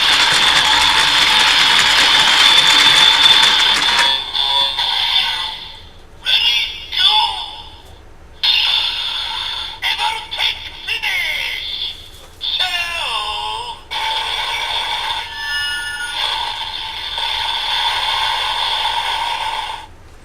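A Kamen Rider Build DX Evol Driver toy belt plays its electronic finishing-attack sequence: a loud synthesized jingle, then choppy bursts of processed voice and effects with short gaps, close and tinny through a small speaker.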